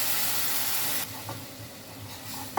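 Spice paste of garlic, cumin and ginger fries with onions in a pan: a loud, close sizzling hiss that drops sharply after a second to a softer, steady crackle.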